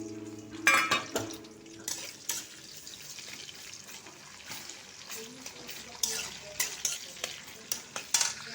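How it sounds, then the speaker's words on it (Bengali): Chopped onion drops into hot oil in a pan for aloo posto, crackling and sizzling up close while a spatula stirs with scraping clicks at an irregular pace. "এবার আমি কেটে রাখা পেঁয়াজটি দিয়ে দিচ্ছি"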